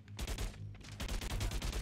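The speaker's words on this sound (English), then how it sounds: "Oh, we can shoot over these." Rapid bursts of gunfire in the Nintendo Switch shooter Freakout: Calamity, dense stuttering shots in quick volleys with a brief lull between, steady and loud with no speech.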